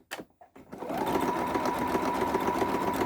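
A sewing machine stitches a quarter-inch seam with a back stitch at the start for a large mountain retreat bag, first with a few short stuttering bursts, then a steady, close, continuous hum.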